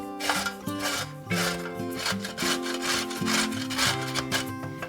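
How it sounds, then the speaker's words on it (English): Carrots are rubbed across the largest holes of a grater in quick, rhythmic rasping strokes, close by, with a melodic tune playing underneath. "First, I'm going to peel and grate my carrots. And I am using the largest grate setting"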